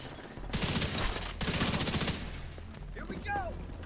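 Rapid automatic gunfire from The Division 2 pours out in loud dense bursts, pausing briefly before resuming, then thinning into scattered game effects and rising electronic chirps near the end.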